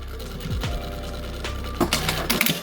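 A sewing machine runs steadily, stitching through layered corset fabric with a close mechanical whir, then gives a few clunks and rattles near the end, with no talking.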